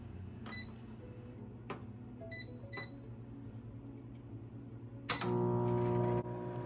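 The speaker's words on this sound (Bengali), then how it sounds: "900 ওয়াটের মাইক্রোওয়েভ ওভেন। আমি টাইম দিচ্ছি" A 900-watt microwave oven gives several short, clear electronic beeps as its timer is keyed in, then its steady running hum starts up, close by and with no one talking.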